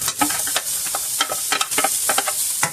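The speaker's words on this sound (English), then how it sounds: "Our oil is hot. Ooh. And I'm going to put in, this is half of a medium onion." Half a medium onion sizzles and fries in hot oil in a small square pan, a loud crackling hiss broken by bursts of stirring and spattering.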